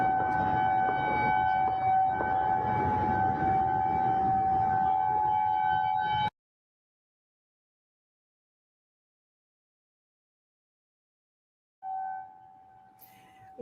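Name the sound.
emergency sirens after active shooter alert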